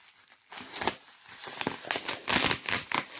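A fan mail parcel is torn open by hand with close, uneven bursts of crinkling and ripping packaging, pausing briefly between pulls, with no speech.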